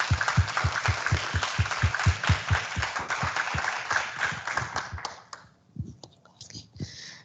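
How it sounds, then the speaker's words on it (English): A small school board meeting audience claps in a quick, fairly even rhythm for an employee, the sharp claps sounding close and sparse, thinning to a few scattered hits and quiet murmuring at the end. "So I just want to give her an applause."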